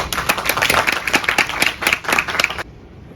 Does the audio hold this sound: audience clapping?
yes